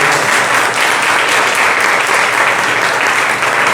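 A church congregation at a Sunday celebration service applauds, with dense, loud, continuous clapping filling the room without a break.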